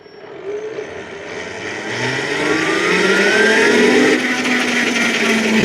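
An old Zero electric motorcycle with a brushed motor winds up from rest, its whine rising steadily in pitch and loudness over a few seconds before holding near full speed, close and without speech.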